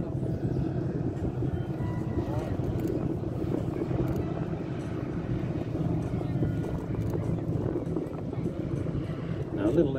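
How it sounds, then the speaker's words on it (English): A DHC-4 Caribou's piston engines running at an air display, heard as a constant broad rumble that holds steady throughout, with a voice talking over it. "You'll hear the engine spool up as it goes into effectively reverse"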